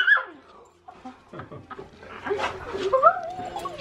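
A dog whimpers and yips in high, wavering cries inside a western tack shop, close and fairly loud, with a person talking alongside.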